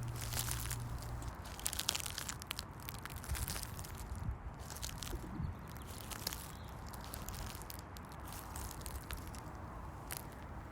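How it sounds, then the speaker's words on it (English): Heavy boots crunching over fallen leaves and twigs on a packed dirt forest trail, a dense close crackle of crunches and snaps continuing throughout. "your heavy boots crunching over fallen leaves and twigs, lining the packed dirt trail"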